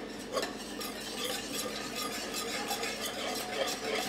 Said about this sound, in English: that's why I use this miniature whisk, because it really helps stir it really well